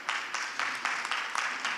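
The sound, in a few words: audience applause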